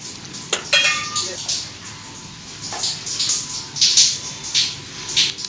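Chokha, a mashed vegetable dish, is stirred in a metal pot, with repeated clinks and scrapes of a spoon against the sides and a faint background sizzle, loud and close.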